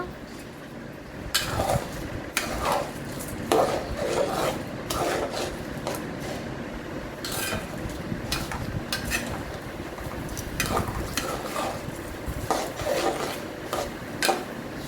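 Rice is stirred and fried with red capsicum and a bay leaf in a pot, a spoon scraping and clinking against the metal in irregular strokes over a soft sizzle, with no talk.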